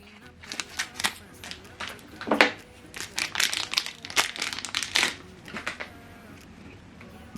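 Air vent tape being pulled off an Epson Workforce ink cartridge: a string of crinkly, papery peeling and rustling noises, close and fairly quiet, with some handling.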